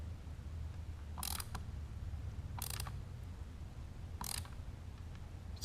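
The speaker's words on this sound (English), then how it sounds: "kind of sucking the 3D printed part into that little recess. Yeah. Gotta hear the plastic compressing." A 3D printed plastic tail part on an FE 501s Baja motorcycle gives three short, crisp creaks as a bolt is tightened, spaced about 1.4 seconds apart over a steady low hum of workshop background.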